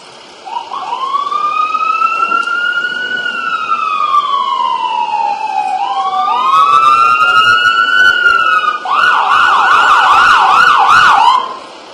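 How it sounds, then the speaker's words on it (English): An ambulance siren wails continuously in rising and falling sweeps, then switches to a rapid yelp near the end, loud and close over steady road noise. "Charles will be transported to the emergency department for treatment"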